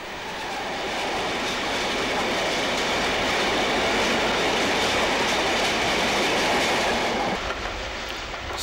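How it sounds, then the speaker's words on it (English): A Class 47 diesel locomotive rumbles past at Purfleet hauling bitumen tank wagons, wheels clattering steadily on the rails, loud and close, then beginning to fade at the end. "At Purfleet, a Class 47 locomotive heads a train of bitumen tanks towards one of two refineries"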